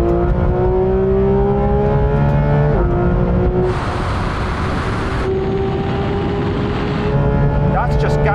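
Two Porsche 911 GT3s, a 992 and a 991 RS, accelerate hard in third gear from a 50 mph rolling start, a loud sustained engine wail rising in pitch with a brief gear-related dip and a surge of wind roar, under talk.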